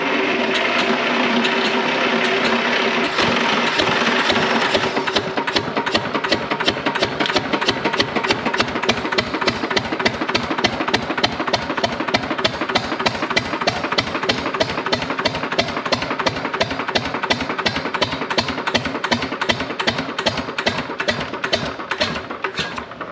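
Air-cooled Lister diesel engine cranking and then settling into a running rhythm, loud and close, with a fast regular knocking beat that stays steady for about twenty seconds.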